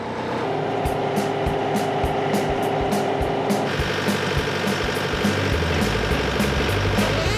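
A tractor digging up sweet potatoes in a field, its engine running loud and steady up close with a rapid rhythmic clatter from the digging blade, the mechanical rattle thickening partway through.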